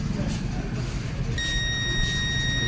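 A multimeter on continuity mode beeps while testing a buck capacitor on a phone circuit board: a steady high electronic tone starts about halfway in and holds to the end over low background noise.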